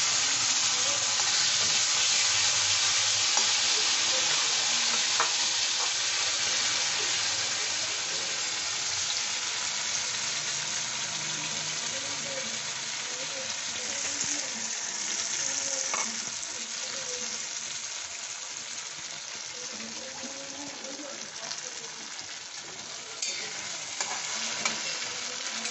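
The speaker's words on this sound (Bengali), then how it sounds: "আমি ঘিয়েতে এই বাটাগুলো দিয়ে দিচ্ছি।" A ground paste for pointed gourd (potol) halwa frying in ghee, a continuous close sizzle and hiss with intermittent stirring scrapes throughout, no talk.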